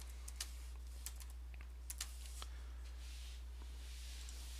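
Keys clatter on a computer keyboard in quick, irregular bursts of typing over a constant low electrical hum, close and fairly quiet, with no talking.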